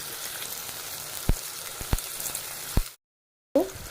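Onion and tomato sautéing with curry leaves in hot oil, a soft steady sizzle and crackle with a few sharp spits and pops, cut off by a short stretch of silence before the frying resumes.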